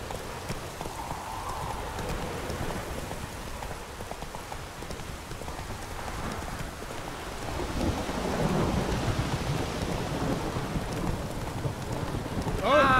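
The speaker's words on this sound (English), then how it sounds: "I feel like I'm in the middle of an actual storm." A Witcher 3 thunderstorm brings steady heavy rain and deep rolling thunder that swells toward the end, with horse hooves clopping faintly underneath.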